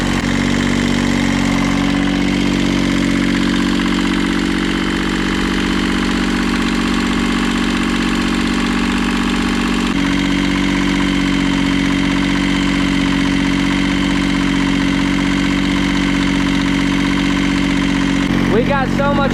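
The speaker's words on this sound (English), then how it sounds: "We got so much blow by, we're blowing oil out of the valve cover now. This engine is definitely shot." A worn tractor diesel engine with heavy blow-by, pushing oil out of the valve cover, idles close by in a loud, steady, unbroken drone for the whole stretch.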